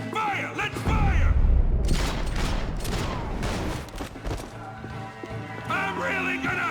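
Rapid gunfire bursts and crashing impacts in the video game Max Payne 3, loud and dense in the middle, with shouted voices before and after.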